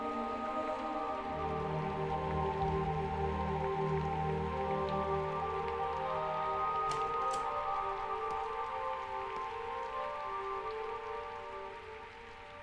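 Water is sprinkled over someone to imitate rainfall, making a steady, even patter that continues for several seconds over a faint sustained tonal background, with no voices.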